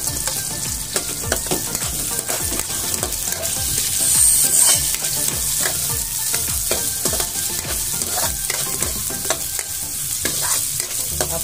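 Ginger stir-frying in a pan for ginataang papaya with sardines, a loud bright sizzle with repeated scraping stirs at a brisk rhythm, close up and continuous.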